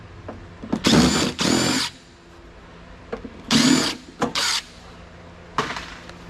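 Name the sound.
power drill unscrewing screws from a power backup unit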